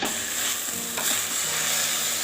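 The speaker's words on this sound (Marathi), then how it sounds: "आपण ढवळून घेऊया" Amaranth greens frying in a pan while being stirred, a close, continuous sizzle with soft scraping strokes of the spoon running throughout, no voices.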